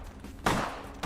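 A gunshot in Vampire: The Masquerade – Bloodlines: one loud, sharp report in the middle with a short tail, followed by a second quicker crack at the end over low background ambience.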